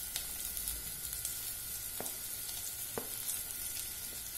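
Three finely chopped onions sautéing in oil in a pan: a faint, steady sizzling hiss with a few light taps of the spoon, close but quiet, no voices.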